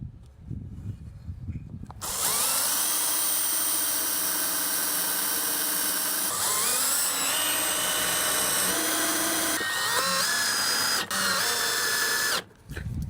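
A power drill drives screws into a wooden jig, its motor whining steadily and shifting pitch as each screw seats, loud and close with a brief pause near the end.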